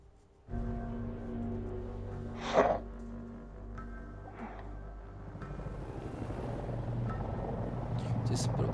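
A helicopter coming in to land in the video game Battlefield 2042: a steady low rotor and engine drone that grows rougher and louder toward the end, with a brief sharper burst early on and voices talking over it.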